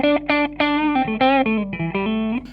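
An electric guitar through a Line 6 POD clean preset with slight distortion plays a short run of sustained single notes, each plucked distinctly with a bright harmonic tone, close and clear with no voices.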